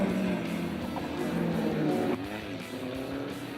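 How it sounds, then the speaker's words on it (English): A Lotus race car climbs a hill on a circuit toward the final corner complex, its engine a steady, fairly loud drone throughout, rising slightly in pitch with a brief shift near the middle. "comes round to lap the Lotus of Alan Grant as he climbs the hill and heads into the final complex"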